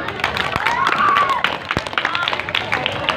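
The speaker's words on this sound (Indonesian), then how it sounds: "Tepuk tangan dong." A school group applauds at the end of an orientation event, scattered clapping with several sharp claps and voices murmuring under it.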